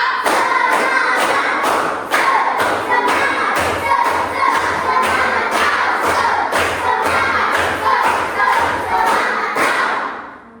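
A classroom of pupils performing a rhythmic spirit clapping chant, loud sharp claps in a steady repeating beat with shouted voices, going on for about ten seconds before fading out.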